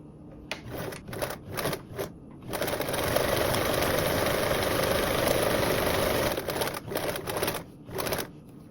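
Close sewing machine topstitching around a blanket backpack at a quarter-inch seam allowance, a few short stitch bursts, then a steady sustained run of several seconds, then more short bursts.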